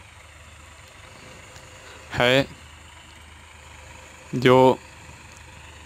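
A Massey Ferguson 9000 tractor idles in a field, its low, steady engine rumble running throughout while someone speaks two short phrases over it.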